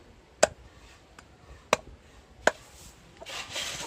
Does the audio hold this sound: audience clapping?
no